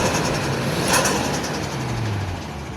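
Toyota JZX100 with a 1JZ engine and HKS Racing Suction intake, running steadily at idle, with a low rumble and a faint rising tone partway through, close by.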